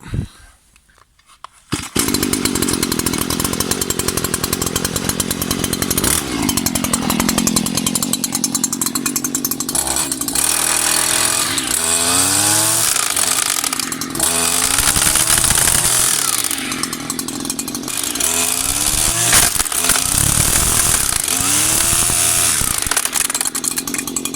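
A Stihl FS 94 R gas string trimmer's small two-stroke engine buzzes loudly and continuously, its pitch rising and falling with repeated throttle revs.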